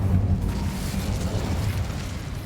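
Incendio fire spell cast in Hogwarts Legacy, a loud low whooshing roar of flame that rumbles steadily and fades slightly over its short span, with no talk over it.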